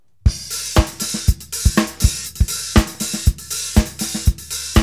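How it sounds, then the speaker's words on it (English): Syncopated drum groove with ghost notes added by the left hand: soft snare taps fill the gaps between firm kick and snare hits, all under a continuous bright hi-hat wash. The playing is close, steady and even, with no voices. "add in some ghost notes with the left hand"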